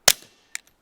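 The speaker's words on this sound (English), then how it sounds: "This is Federal Auto Match 40 grain. Shoot it." A single suppressed .22 rifle shot firing Federal Auto Match 40 grain ammunition through a Dead Air Mask, a sharp, short crack that dies quickly, followed by a faint metallic click and a tiny tick from the action.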